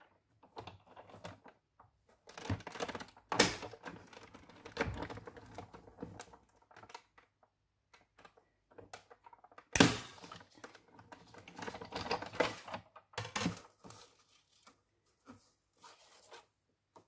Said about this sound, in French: je vais passer ce papier avec ce poinçon, là, ce grand poinçon